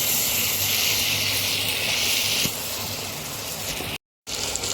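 Spiced masala for an egg chili sizzles in a pan with a loud, steady hiss, easing slightly halfway through before a short break and a return of the same frying sound.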